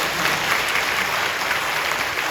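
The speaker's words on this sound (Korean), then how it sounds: "여러분 박수로 환영해 주시죠." A church congregation at a Sunday service applauds to welcome first-time newcomers, a dense steady wash of many hands clapping together, close and continuous throughout with no talk.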